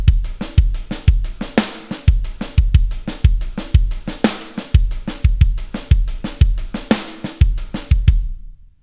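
A drum kit plays a steady groove with snare grace notes and accented hits over kick and hi-hat, loud and close, in a repeating rhythmic pattern that stops cleanly at the end.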